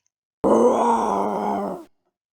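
A voice imitating a lion's roar in a children's grammar lesson on onomatopoeia: one sustained, gravelly, growling vocal lasting about a second and a half, close and loud, then silence.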